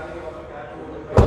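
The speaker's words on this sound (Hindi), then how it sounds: "दरवाजे का आपको थर्ड सुना देता हूँ" A Nissan Magnite car door shuts with a single solid thud near the end, heard close up after a stretch of quiet background noise.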